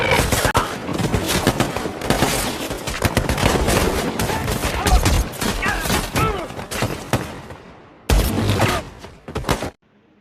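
Intense gunfire from a film shootout scene in American Sniper: dense, continuous bursts of automatic fire and shots, loud and close, running for most of the stretch with a brief pause before a final volley.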